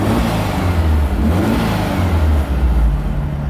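A replica 1955 Porsche 356 Speedster engine, warmed up, revs loudly and close, a continuous throaty drone that swells and dips with the throttle, with no voices over it.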